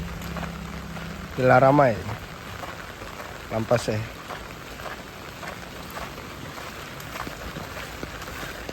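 Night rain falls steadily on city streets in Banda Aceh, a continuous soft wash of drops under brief spoken words from a nearby voice.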